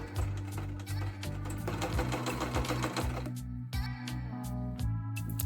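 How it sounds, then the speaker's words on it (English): A sewing machine runs steadily along a sweater seam with a fast, rhythmic mechanical chatter, close and moderately quiet, with a few brief pauses near the end. "let's get that sewn together now."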